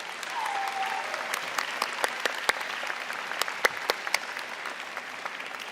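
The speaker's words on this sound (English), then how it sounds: "give them a round of applause" Audience at a university convocation ceremony applauding steadily, a dense even clapping with a few sharper nearby claps, with no talk.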